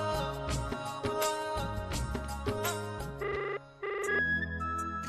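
A telephone rings with a bright, melodic electronic ringtone in a household scene from a TV drama. The tune loops repeatedly and loudly for several seconds with no talking over it.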